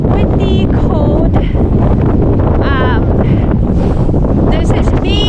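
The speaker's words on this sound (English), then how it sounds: "the wind, you can hear it" Strong, cold wind buffets the microphone on a rocky upper platform trail above the water in Ireland, a steady loud roar throughout while a person talks over it.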